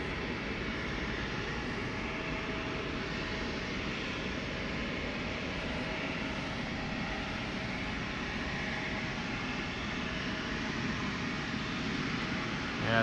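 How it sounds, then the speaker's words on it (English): SAS Mitsubishi CRJ900 long-range regional jet departing Schiphol Airport, a steady, loud, broadband engine roar holding constant throughout with no talk. "SAS, flight 552, also going to go to Copenhagen just as the 737 from KLM that just took off. Mitsubishi CRJ 900 long range"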